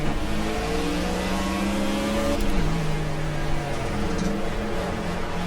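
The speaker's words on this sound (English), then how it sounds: "I like the way this car sounds" A Ford Fusion stock car engine in the racing game Project Cars revs loudly and steadily, its pitch climbing, dipping at a gear shift, then rising again.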